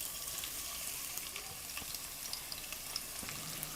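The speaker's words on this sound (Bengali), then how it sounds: "কড়াইয়ে হাফ কাপের মতো তেল নিয়ে নিয়েছি, আর এতে দিয়ে দিচ্ছি দুটো বড় সাইজের কুচি করা পেঁয়াজ।" Two large chopped onions fry in about half a cup of oil in a wok, giving a steady close sizzle with light crackles and occasional stirring scrapes, and no one speaks over it.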